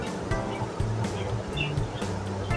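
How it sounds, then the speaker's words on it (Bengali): Flour-coated marinated chicken frying in hot oil for a Bengali chicken fry, giving a steady close sizzling hiss with soft crackles and pops throughout. "এখন যেটা করছি, আমি আমার যে চিকেন ফ্রাইটাকে আমি ভেজে নিতেছি।"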